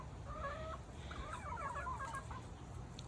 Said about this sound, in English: The bigger chickens are around the corner.